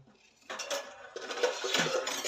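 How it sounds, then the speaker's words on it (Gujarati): Knife cutting onion on a kitchen surface, with metallic clinks and chopping taps of the blade, close by. Light clatter builds after a quiet start and continues in uneven strokes. "ડુંગળી કાપી દઈએ."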